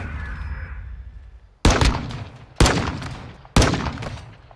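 Three loud, sharp pistol shots ring out in a video game, evenly spaced about a second apart, each with a short echoing tail over a low background rumble.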